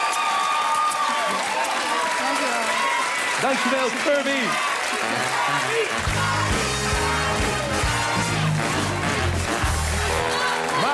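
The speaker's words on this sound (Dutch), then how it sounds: "Geef een groot applaus" Audience at a game show finale applauds and cheers for an eliminated contestant, steady clapping under a host's talk and background music.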